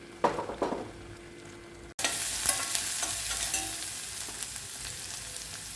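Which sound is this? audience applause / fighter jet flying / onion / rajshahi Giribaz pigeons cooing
onion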